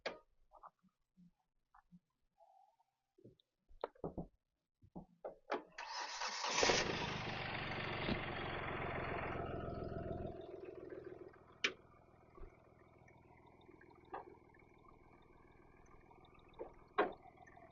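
A 2016 Hyundai Grand i10 Asta diesel engine cranks and catches after a few soft clicks, then settles into a steady, fairly quiet diesel idle with occasional sharp knocks nearby.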